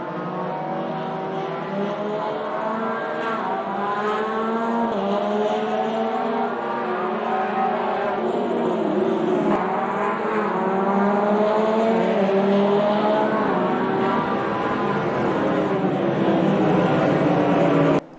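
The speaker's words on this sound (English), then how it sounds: "A clean start, Mazmo leads out of turn 1" GT1 race cars launch at the start of a racing game race bound for the Nordschleife, a dense roar of several engines revving and accelerating together with occasional tire squeal, loud and sustained throughout.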